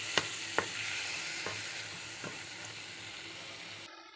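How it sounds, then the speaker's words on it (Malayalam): Curdled milk stirred in hot ghee in a pan: a steady frying hiss with a few sharp spoon clinks against the pan early on, then the sizzle fades out. "ഇനി നമുക്കിതിലേക്ക് പാല് പിരിഞ്ഞത് ആഡ് ചെയ്തിട്ട് നന്നായിട്ട് ഇളക്കി കൊടുക്കാം കേട്ടോ"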